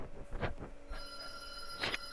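A phone rings while someone is being called, its steady electronic ring tone starting partway through and continuing, with brief short noises before and a louder burst at the end.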